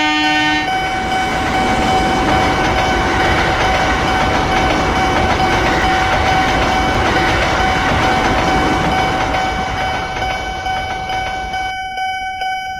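Train rolling past a railway level crossing in Indonesia, with a loud steady rumble and a sustained ringing warning tone that continues until it cuts off near the end.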